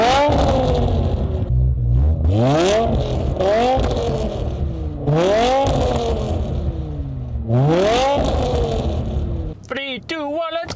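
A BMW E60 M5 with a new intake revs hard in repeated climbing sweeps, each rising and falling back. Rapid, higher throttle blips follow at the end.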